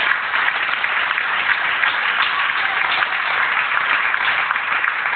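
A church congregation applauds and acclaims the Lord during a Sunday service, a dense, steady burst of loud clapping with no pauses.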